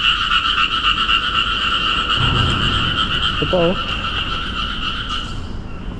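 A bullfrog in a canal, where an unusual sound rises from under the water, gives a few deep, gulping croaks midway through, set against steady droning insects while a person speaks briefly.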